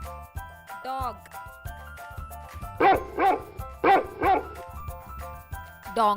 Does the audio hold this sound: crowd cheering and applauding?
no